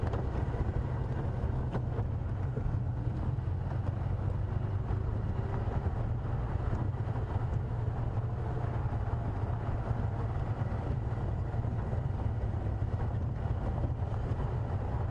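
An open safari vehicle driving near a lodge, a steady low engine rumble with constant wind buffeting the microphone throughout, no pauses.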